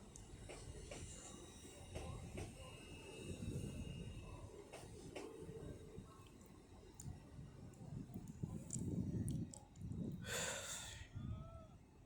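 Class 801 train 801109 at York station on the East Coast Main Line, low rumbling and clanking of rail cars with intermittent squeals and knocks, a loud hiss near the end.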